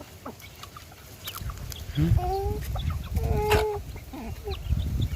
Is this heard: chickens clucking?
yes